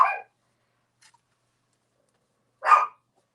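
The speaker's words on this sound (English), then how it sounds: "That's my dog." A pet dog barks twice indoors, sharp single barks set well apart with near silence between them, close and moderately loud.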